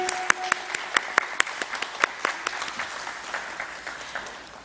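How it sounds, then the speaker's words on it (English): Applause from an audience at a book launch in a convention hall, with crisp individual claps standing out over a dense wash of clapping that gradually thins and fades out. "Big round of applause."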